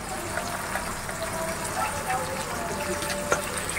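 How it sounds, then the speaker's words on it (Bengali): Chili, turmeric and garam masala powders with salt fry in a pan and are stirred for a chicken pumpkin vegetable curry, giving a continuous close sizzle with faint scraping and occasional soft clatter. "খুব ভালো করে নেড়ে চেড়ে মশলাটা কিছুক্ষণ কষিয়ে নিব।"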